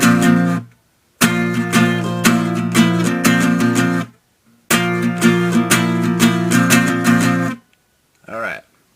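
Guitar strummed in a steady down, up, down, up pattern: two loud, ringing runs of rhythmic chords split by a short pause, then a faint brief note at the end.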